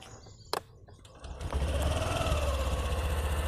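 A faint click, then a Honda Dio Repsol Edition BS6 scooter engine cranks and catches, settling into a steady, close idle hum.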